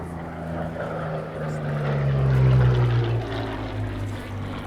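A WW2 warbird propeller aircraft at the Temora airshow performing a hesitation roll, its engine droning steadily at moderate distance and swelling louder as it passes overhead before easing off.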